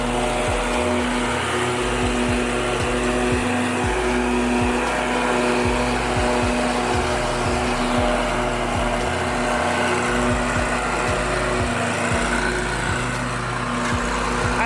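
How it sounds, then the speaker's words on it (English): A steady, loud lawn mower engine drones continuously throughout, with a constant buzzing hum and no talking. "They are out here cutting the grass."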